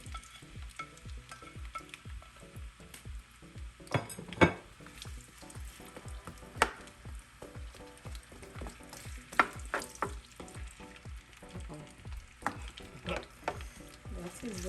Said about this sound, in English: That's the oil. Just wait for the oil to it'll be hot. We'll be putting the onions now.